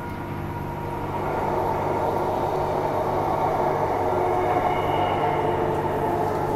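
A Transperth A-series electric train rolls into Perth station through a tunnel, a steady low rumble of wheels and motor hum that grows louder after the first second and holds constant, close and enclosed, with no talk.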